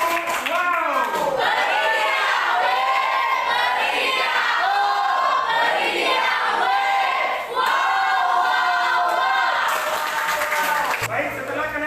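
A class of students claps and cheers for a group that has just presented, with dense rhythmic clapping and excited voices shouting throughout, loud and close in a classroom.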